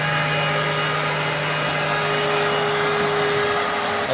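A Trend Yeti CNC router spins a cutter through material, a steady, loud whining drone with a constant pitched hum that holds unchanged for about four seconds with no talk.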